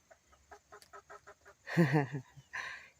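A big rooster clucks in a series of short, soft, evenly spaced clucks, then lets out a louder, longer squawking call followed by one more brief cry, close by outdoors on a homestead.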